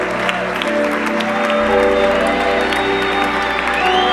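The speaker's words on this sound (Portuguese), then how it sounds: "Quantos aplaudem a Jesus?" A church congregation at a family worship service applauds loudly and steadily, with dense sustained clapping and sustained tones, likely music, underneath.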